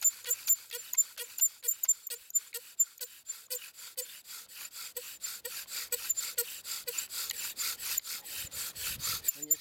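A bow drill spins a wooden spindle against a wooden fireboard, making a steady back-and-forth rhythmic squeak and rasp that speeds up toward the end, close and fairly loud.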